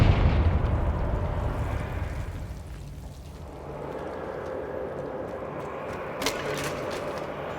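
A Confringo fire-spell explosion in the video game Hogwarts Legacy: a loud, booming blast up front that rolls into a long, fading rumble, followed by a faint sharp pop near the end.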